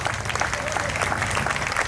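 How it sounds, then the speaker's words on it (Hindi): A crowd applauds at a Hindi kavi sammelan poetry gathering, a dense, steady roar of clapping that stays at an even level without pause. "तालियां कम हैं आपकी"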